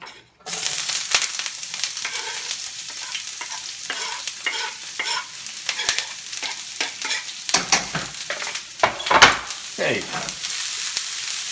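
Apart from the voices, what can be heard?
onions sautéing in hot olive oil in a pan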